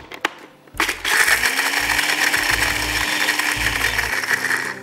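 Electric grinder whirs up and grinds almonds, cashews and pistachios: a few short clicks, then a loud steady mechanical whine with rattling nut chunks and faint pulsing in the motor hum, close by.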